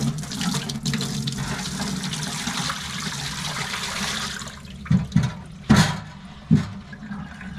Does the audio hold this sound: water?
yes